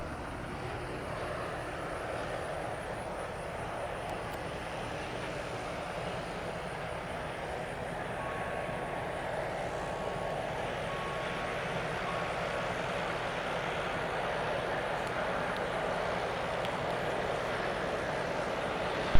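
A small aircraft landing at Spirit of St. Louis Airport gives a steady, faint engine drone that swells gradually and ends in a short thump, heard from a distance in open air.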